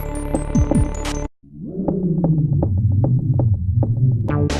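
Eerie in-game noises from the purple monster Dan in the survival horror game Clock Tower: a brief high synth tone, a sudden drop to silence, then a low throbbing, pulsing hum with rhythmic thuds, heard alone.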